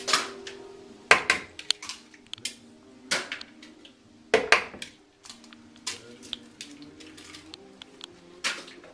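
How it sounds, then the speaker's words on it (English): Four eggs cracked into a very large bowl for bread pudding, a run of sharp taps and clicks with a few louder knocks, close and fairly quiet, faint music behind. "We're going to crack 4 eggs into a very large bowl."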